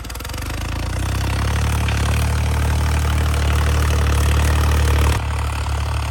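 A New Holland 3630 Special Edition tractor engine runs steadily with a deep, throbbing low rumble, loud and close, then the pitch drops slightly near the end.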